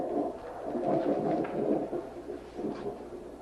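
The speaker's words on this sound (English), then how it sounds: "Does the storm disturb you?" A night thunderstorm with thunder and rain rolls on as a steady, deep rumbling roar. The level swells and eases slightly across the whole stretch, with no voices.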